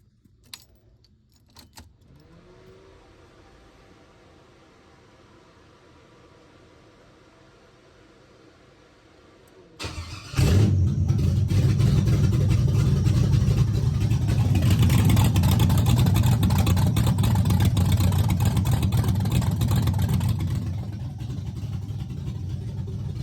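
An LS-swapped 1978 Chevrolet Caprice engine struggling and running rough, starting as a quiet low idle before jumping to a loud, sustained roar that continues steadily near the listener, with no talking.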